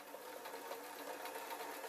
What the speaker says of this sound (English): I'm literally going to sew on the overlocked part